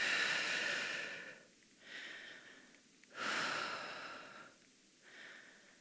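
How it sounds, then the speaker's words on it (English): Slow, steady breaths drawn in and let out while holding a stretch in a mobility warm-up, soft airy inhales and exhales in a calm repeating rhythm, close and alone. "Hold and breathe."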